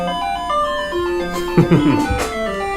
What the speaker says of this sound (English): Gotta love that 80s 8-bit music